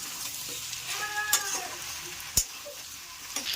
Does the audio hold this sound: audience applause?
no